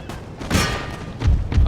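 Musket volleys in the game Empire: Total War during a siege of Rome, a few close, loud cracking bursts about half a second apart under a battle background.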